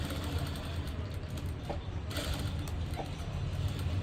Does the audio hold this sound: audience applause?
no